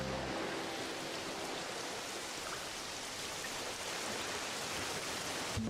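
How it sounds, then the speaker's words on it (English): Rain falls in the video game Pokopia as a steady, dense hiss of even patter that stays uniform and fairly soft throughout, with no talking over it. "You're just gonna make it rain?"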